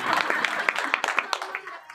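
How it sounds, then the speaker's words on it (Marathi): An audience at a devotional kirtan gathering claps in a quick, uneven burst of overlapping hand claps that gradually thins out over two seconds. "टाळी वाजून दे ह्याच्या नावाची।"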